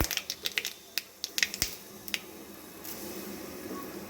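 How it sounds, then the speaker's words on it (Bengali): Black mustard seeds and curry leaves splutter in hot oil for upma, giving a run of sharp, irregular pops and crackles close by that thin out into a soft, steady sizzle. "তেলটা গরম হওয়ার পরে এর মধ্যে দিয়ে দিলাম হাফ চামচ মতো কালো সর্ষে ফোড়নে আর সাথে দিয়ে দিচ্ছি কয়েকটা কারি পাতা"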